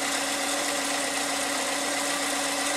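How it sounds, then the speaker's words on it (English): A Toyota Tarago/Previa/Estima engine idles after its throttle body and idle air control valve were cleaned, a steady close mid-range hum sitting slightly above its usual idle, running alone with no talk. "Idling a bit higher now to what it used to"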